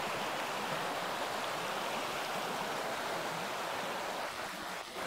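A river flows over mossy, slippery rocks along a riverbed in the Valle del Lunarejo, near a waterfall, a steady close-up rush of water that runs without a break.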